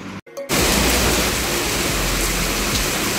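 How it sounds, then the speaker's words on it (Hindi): Heavy rain pours down steadily as a loud, dense, close hiss that starts abruptly after a brief moment and continues without a break. "देखो कितना तेज बारिश पड़ रही है।"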